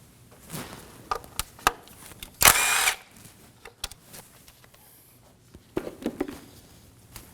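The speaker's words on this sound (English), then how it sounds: "now using a 10mm socket, we're going to remove this bolt" A 10mm socket backs out an ignition coil bolt on a 2011-2016 Kia Optima 2.4L four-cylinder. One short, loud whirring burst stands out among scattered close clicks and knocks.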